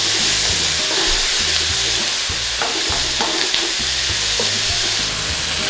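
A sauce for slow-cooker lamb shanks, seasoned with a pinch of salt and black pepper, being stirred in a pot, with a steady close sizzle and scraping of the spoon running throughout.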